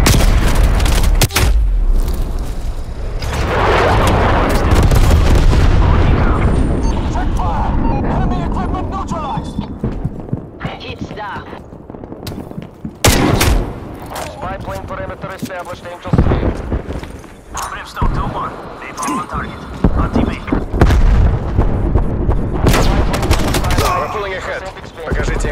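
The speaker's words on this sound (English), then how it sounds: "Vargas ordering artillery operation. It's a napalm on my target." Explosions and gunfire from a napalm artillery strike in a sniper video game, a dense run of loud booms and rapid shots that keeps going for most of the stretch, with a voice talking over parts of it.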